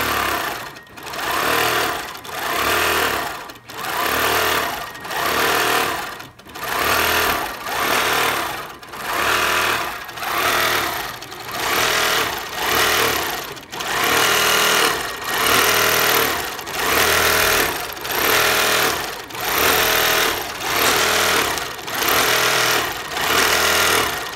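A sewing machine set to free motion quilting runs in a loud, fast mechanical chatter, stopping and restarting in regular bursts about a second or two long, with no voices over it.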